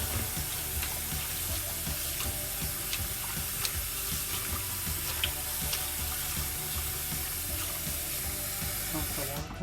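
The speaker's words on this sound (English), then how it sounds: "We use the cold tap water to rinse it, this napa cabbage a few times." Cold tap water runs steadily into a sink while napa cabbage is rinsed, a continuous hissing splash with faint clinks and handling noises over it.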